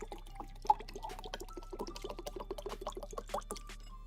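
Water pours and drips in an indie game, a busy run of small splashy plinks and gurgles over a steady low hum, moderately quiet and continuous.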